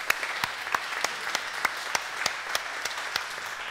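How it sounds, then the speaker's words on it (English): A congregation at a confirmation service gives a round of applause, with dense, lively clapping and sharp individual claps standing out throughout. "So let's give them a round of applause for that."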